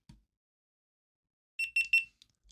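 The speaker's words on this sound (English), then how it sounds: "Little beep." A short burst of three quick high-pitched electronic beeps from a GoPro Hero 11 camera powering on, close and clear, after a faint click and near silence.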